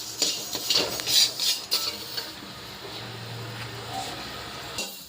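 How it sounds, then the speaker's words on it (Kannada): Sesame seeds being dry-roasted and stirred in a pan for tambittu, giving close scraping and clinking of a utensil against the pan in quick bursts, with a faint sizzle underneath. "ಎಳ್ಳು ಹುರಿಬೇಕು, ನೀಟಿಗೆ ಸ್ವಲ್ಪ ಕೆಂಪುಗಾಗೋ ಥರ ಹುರಿಬೇಕು"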